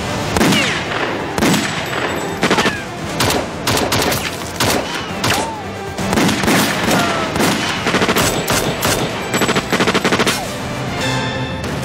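A shootout erupts into rapid, sharp bursts of automatic and single gunshots, loud and close, firing almost continuously with brief gaps, with a few faint shouted voices mixed in.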